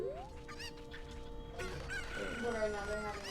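A cucco from Ocarina of Time crows and clucks loudly in the game, with a sustained tone running underneath and a busier burst of game sounds in the second half.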